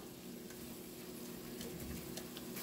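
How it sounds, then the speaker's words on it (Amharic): Onions sizzling in oil for Ethiopian misir kik alicha, a faint, even frying hiss with scattered soft pops and crackles, continuous and close, with no voices. "ሽንኩርታችን እንደዚህ ችክችክ ሲልልን"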